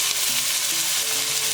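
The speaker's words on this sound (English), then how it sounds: "we are going to fry these off until the onions are translucent" Onions fry in a pan for a South African lentil cottage pie, giving a dense continuous sizzle and crackle, close and steady, with no talking.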